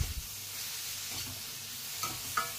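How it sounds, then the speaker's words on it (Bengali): Sliced tomatoes sautéing in a pan for a taro root and prawn curry, a soft continuous sizzle and hiss with a couple of faint stirring clinks, no one speaking. "দুটো কেটে রাখা স্লাইস করে টমেটো আমি তাতে দিয়ে আবার কষতে থাকলাম"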